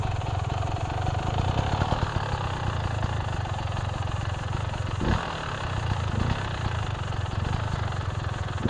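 A Beta XTrainer enduro motorcycle drones steadily as it revs for a log climb on a trail, a continuous buzzing engine note that holds fairly constant and close, with no speech.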